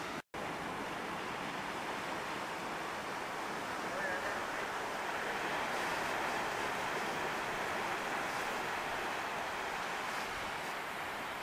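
Ocean waves wash along the coast in a steady, broad roar of surf mixed with wind buffeting the microphone, continuous and fairly faint after a brief click at the start.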